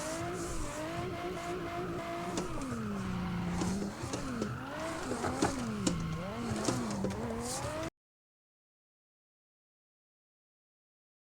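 A Nissan 350Z in a driving game drifting through heavy traffic, its engine rising and falling with tire squeal and sliding, loud and continuous before cutting to silence near the end.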